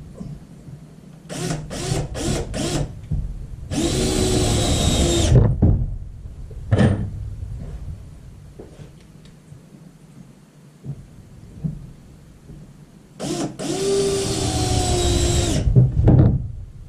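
A cordless drill driving screws into a wooden planter in several bursts: short whirring pulses, then two longer sustained runs, loud and close, with quiet pauses between them.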